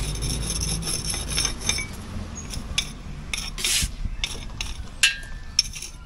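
A rasp scraping along the edge of a thin-joint building block during porch construction, a steady rough filing texture running throughout with a few sharper scrapes standing out.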